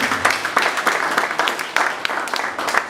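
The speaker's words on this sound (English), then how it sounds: "Round of applause for them as well." Scattered applause from a smaller group of guests at a send-off dinner in Abuja, individual claps audible in an uneven, moderately quiet rhythm rather than a dense roar.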